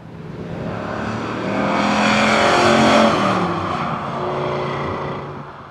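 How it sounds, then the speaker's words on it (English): A Lancia Thema 8.32 with its Ferrari V8 revs hard and loud, the engine note swelling to a sustained high-pitched peak and then easing slightly while still holding a strong, rasping drone. "what an engine!"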